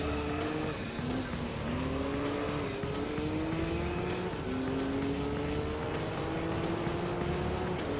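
A Gran Turismo 3 prototype race car's engine drones steadily with rising gear-sweep whines and tyre squeal, loud and continuous without talk.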